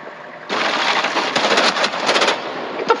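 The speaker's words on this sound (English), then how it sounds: "He's shooting at me" Rapid automatic gunfire in the video game Rainbow Six Siege, loud and close, a dense burst of shots running for about two seconds before it cuts off, then a final shot or two, with no talk over it.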